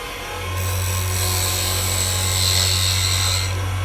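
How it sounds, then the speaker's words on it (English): A wood lathe spins a segmented pen blank while a turning tool makes a push cut, producing a steady motor hum under a smooth, continuous scraping hiss that swells and fades slightly. "I'm making a push cut and then I'm going back and forth to a pull"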